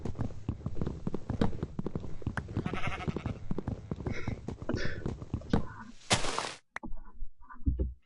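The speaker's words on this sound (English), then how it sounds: "This sheep's just staring at me." Sheep in the Minecraft video game bleat several times amid a busy stream of game sounds and footsteps, fairly close and moderately loud, with a brief harsh burst near the end.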